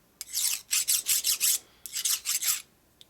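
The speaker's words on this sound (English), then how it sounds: "It's a nice dull file, so it's not really taking any metal off. Just picks off any high spots." A dull file rasping over metal on a 1965 Harley-Davidson Panhead engine part during a lower-end rebuild, picking off high spots: two runs of quick, rhythmic back-and-forth strokes, close and crisp, with no talking.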